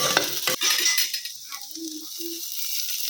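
Chili pieces hit hot oil in a kadhai, giving a loud sizzling burst at the start that quickly settles into a softer frying crackle, with a few metallic utensil clinks.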